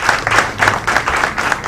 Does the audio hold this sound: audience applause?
yes